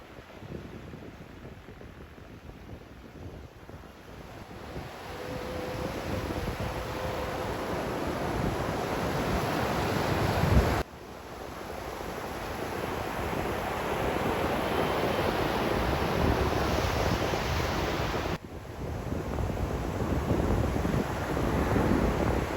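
Continuous surf rushes and roars along the shore at Inani beach, Cox's Bazar, mixed with gusty wind buffeting the microphone, with no voices.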